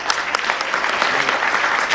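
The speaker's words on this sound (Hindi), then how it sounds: "प्रथम पुरस्कार के लिए तालियां बजाइए जोरदार" Audience at an award ceremony for a music competition claps loudly and steadily, a dense, sustained burst of applause filling the room for the full two seconds.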